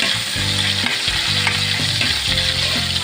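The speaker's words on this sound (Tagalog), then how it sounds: "Nagpaparsyak-parsyak pa yung mantika guys." Browned garlic and freshly added onion sizzle and crackle in hot cooking oil, a loud, continuous frying hiss with stirring clatter breaking in at intervals.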